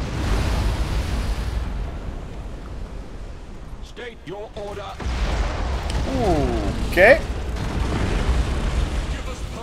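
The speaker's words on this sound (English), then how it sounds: "Let's uh bomb you. Thunderhawk bombardment." Thunderhawk bombardment explosions rumble in the space strategy game Battlefleet Gothic Armada II, a low booming wash that fades and then swells again while a man and in-game voices talk over it.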